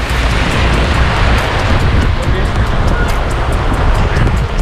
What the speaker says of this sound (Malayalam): നല്ല കാറ്റ്, നല്ല സൂപ്പർ മഴ.